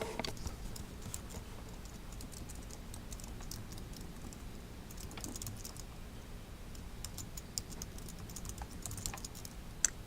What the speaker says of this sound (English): Let's just type it in here